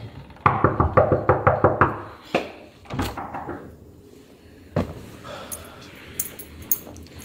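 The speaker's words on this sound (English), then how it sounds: "Just knock again." A run of about eight quick, loud knocks on a door, then a few separate thumps, with some talk and room noise in between.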